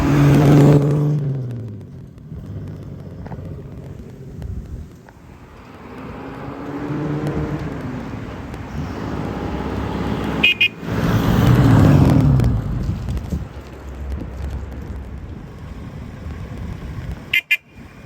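A 1934 Jaguar SS1 with points ignition is hot-started, its engine cranking, catching and settling into an uneven idle with revs rising and falling, plus a couple of sharp clicks near the end.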